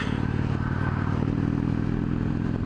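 Indian Springfield Dark Horse motorcycle cruising at highway speed in sixth gear, a close, steady low engine thrum with rapid pulsing mixed under heavy wind roar; no voices.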